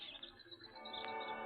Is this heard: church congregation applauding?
no